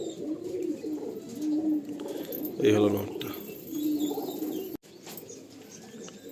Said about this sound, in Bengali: নিচের দিকে পায়রাগুলো আছে, ওদের রুমটা ওইদিকে বলে সব পায়রা ওইদিকেই মুভ করছে।